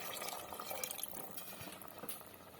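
Mutton stock being poured from a cup into meat simmering in a pot for Dindigul Thalappakatti-style mutton biryani, a steady liquid splash and gurgle with faint bubbling, close and fairly quiet, no talking.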